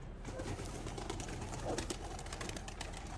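Soft cooing of bald-headed (takla) pigeons under a steady background hiss, quiet and somewhat distant, with light rustling and flutter-like clicks.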